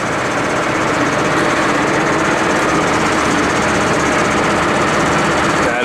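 A tractor PTO driveline runs a modified slurry spreader with a steady, loud mechanical drone and rattle that continues evenly throughout, close up and without talk.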